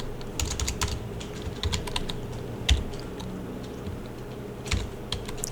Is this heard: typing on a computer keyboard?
yes